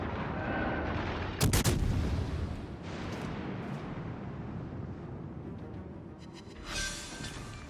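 Warship guns fire salvos in the naval combat game World of Warships: Legends, played on Xbox: a sharp booming blast, then a few softer distant thuds and a later burst over a steady low rumble of engine and ambience.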